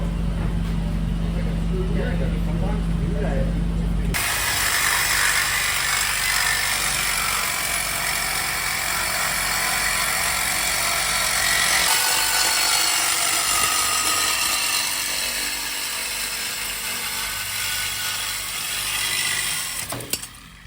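Tools work under a Honda FL5 Civic Type R to remove the exhaust resonator, with steady ratcheting and mechanical clatter after a deep idling hum cuts off, and people talking throughout.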